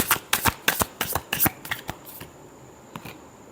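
Tarot cards being shuffled up close, a quick run of crisp riffling slaps for about two seconds, then a few sparse taps as the deck settles, no talking.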